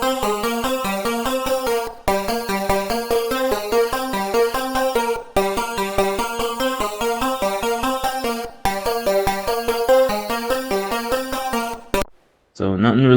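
A hip-hop beat built in FL Studio plays with a bright Serum pluck melody over steady, punchy drums, looping in even bars with brief dropouts between phrases before cutting off near the end.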